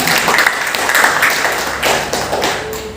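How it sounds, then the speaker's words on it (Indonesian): A classroom of students clapping hands together at a teacher's call, a loud, close burst of rapid claps lasting about three seconds. "Tepuk tangan."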